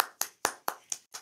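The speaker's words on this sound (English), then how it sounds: "Give yourself a big clap." Six crisp hand claps in a quick, even rhythm, close and alone, each one a sharp slap that fades quickly.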